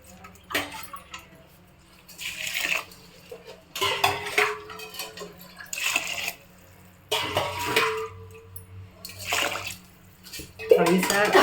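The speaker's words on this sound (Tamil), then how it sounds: "ரைஸில் தண்ணி நல்லா மிக்ஸ் பண்ணியாச்சு" Rice and water being mixed in a cooking pot, with bursts of metal scraping and sloshing water in uneven strokes, close up, while people talk in the background.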